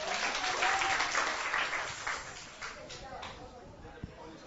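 Students applaud in a classroom during a chemistry lecture, a loud burst of clapping that tapers off over a few seconds and ends with a single sharp knock, with voices mixed in.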